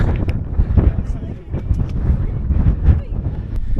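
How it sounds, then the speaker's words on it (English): Strong wind on a hilltop near Edinburgh buffets the microphone in a constant low rumble with gusty bursts, loud and close throughout. "It's so windy up here."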